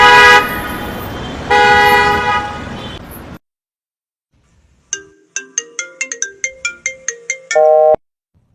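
A mobile phone rings with a call from home, a loud tonal ringtone with sharp repeated electronic notes at close range, following a stretch of horn-like tones and a brief quiet gap.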